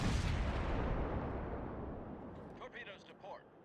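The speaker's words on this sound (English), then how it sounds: "Let's see if this salvo can do better." A naval gun salvo fires in World of Warships, starting as a heavy booming blast that rolls off into a long fading rumble, with a voice speaking briefly near the end.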